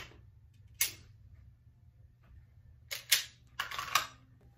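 Sharp, dry mechanical clicks from a pistol dry-fire trigger pull during competition shooting practice: one click near the start, then a quick cluster of three or four close together, each loud and crisp over a faint low hum.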